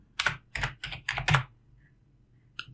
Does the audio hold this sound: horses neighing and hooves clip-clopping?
no